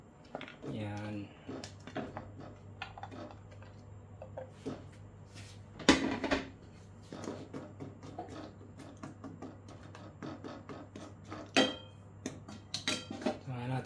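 A pot of pinakbet with squash and tomato is being covered, heard as close metallic clinks and clatters of a lid and utensils against the pot over a steady low hum, with a louder clank partway through.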